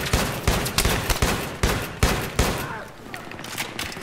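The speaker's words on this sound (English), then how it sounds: "Out of all those shots I shot, which I think are like 8, I only got 2 hit markers." Shotgun fire in the video game Battlefield 3, with about eight sharp, booming blasts in an uneven rhythm, each followed by a short rumbling tail, loud and close.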